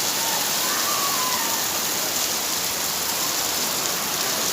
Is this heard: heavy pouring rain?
yes